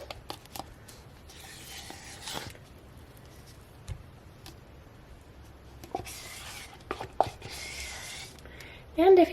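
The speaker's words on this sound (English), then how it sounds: "you're just gonna scrape the whole can of it into your bowl with your melted baking chips" A spatula scrapes a whole can of frosting into a bowl of melted baking chips, giving soft intermittent rubbing and scraping strokes with quiet pauses between them, close by and fairly faint.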